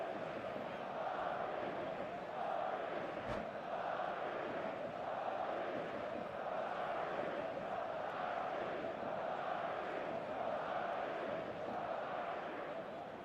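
Stadium crowd in the eFootball 2025 football video game, a steady, dense roar of many voices with a brief sharp burst near the start, continuous and moderately loud throughout.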